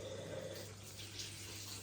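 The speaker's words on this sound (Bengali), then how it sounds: "সারাদিন শুধু হ্যান্ড ওয়াশ নিয়ে হাত ধোয়া, সুন্দর করে।" Water runs steadily from a tap over hands being washed with hand wash, a soft continuous splashing hiss held at an even level throughout, with no talking.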